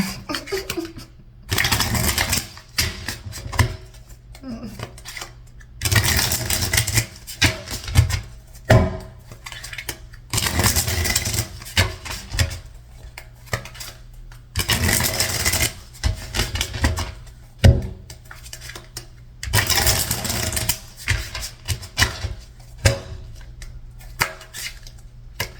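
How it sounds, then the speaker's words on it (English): Tarot cards being shuffled in repeated bursts of riffling and rubbing, close and fairly loud, separated by short quiet gaps across the whole stretch. "That's a lot of shuffling."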